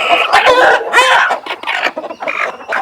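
Chickens cluck and squawk inside a coop on a Jaffna chicken farm, several birds loud and close, overlapping in busy bursts with a higher call near the end.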